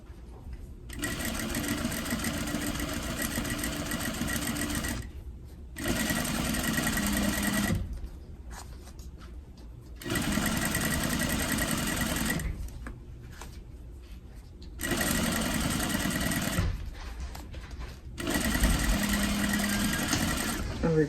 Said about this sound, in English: right at the edge, we just sew it down